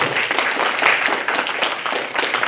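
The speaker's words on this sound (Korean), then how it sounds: "잠시 박수로 환영하겠습니다." A church congregation at a Sunday service applauds to welcome a guest, with dense, steady clapping from many hands at moderate loudness throughout.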